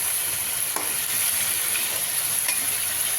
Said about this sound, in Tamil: கட் பண்ணி வச்சுருக்கிற கத்திரிக்காயை நம்ம அதில் சேர்த்து நல்லா கிளறி விடுங்க